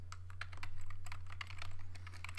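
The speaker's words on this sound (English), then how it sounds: "I type the description" Steady keyboard typing on a computer while entering text in the Inform 7 authoring program, a continuous patter of close, crisp keystrokes over a constant low electrical hum, with no voices.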